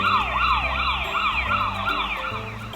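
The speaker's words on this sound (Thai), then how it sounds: "เป็นเสียงรถตำรวจ" A siren wails in repeated rising and falling sweeps, loud and steady, with a low traffic rumble underneath.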